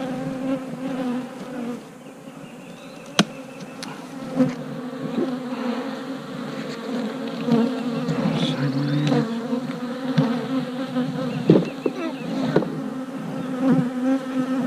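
Honeybees swarm and buzz around a freshly opened new hive, a loud, continuous close-up hum with a few sharp clicks and knocks from hive work cutting through.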